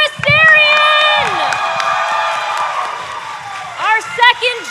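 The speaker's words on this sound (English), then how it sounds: "Big round of applause for Armor Asterion!" A crowd at a cosplay contest claps and cheers loudly, with whoops and shouts rising over the applause; a host's amplified voice speaks over it at the start and again near the end.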